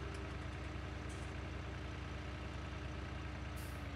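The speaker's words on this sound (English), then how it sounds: "Let's take the tractor around" A tractor engine runs in Farming Simulator 19, a steady, faint low drone idling evenly throughout without change.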